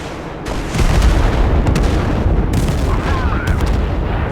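Heavy tank and artillery gunfire in the war video game Total Conflict: Resistance during a siege on a small town, a loud, continuous barrage of booms and rumbling blasts with sharp reports cracking through near the start and middle.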